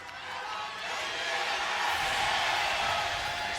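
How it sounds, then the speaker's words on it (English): A large home crowd at a League of Legends Worlds 2023 esports match cheers from a distance, a broad roar that swells and holds steady. "Fan cheers are out here for KT"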